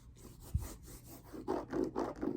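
Faint, close creaking and rubbing as a leather cowboy boot with a rubber sole is bent, a few soft squeaky strains in quick succession.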